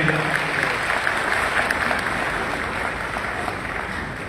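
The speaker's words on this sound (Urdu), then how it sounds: "ایک دفعہ بھرپور تالیوں کے ساتھ اعزاز کریں" Audience applause at a National Health Card launch ceremony in Gujranwala, a dense, sustained clapping from a sizeable indoor crowd that holds steady and tapers slightly toward the end.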